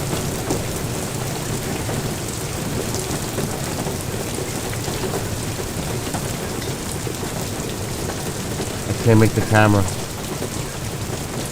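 Heavy rain and hail hammer down in a video game storm, a continuous dense hiss of pelting drops. Near the end someone speaks briefly, close and louder, over the downpour.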